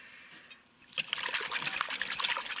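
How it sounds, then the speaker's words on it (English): Frank's hot sauce poured into a bowl of eggs and half-and-half for a migas casserole, a steady close liquid trickle that starts faintly and swells into a continuous pour. "A little fat splash of hot sauce, 1, 2, couple tablespoons of Frank's"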